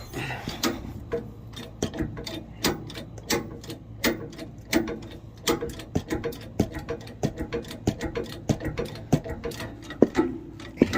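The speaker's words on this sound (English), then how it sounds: "then we'll just start jacking her up" A jack under a Mercedes-Benz Winnebago Navion motorhome is cranked with a rod for leverage, giving a rapid run of sharp ratcheting clicks in a fairly even rhythm over a quiet, low background.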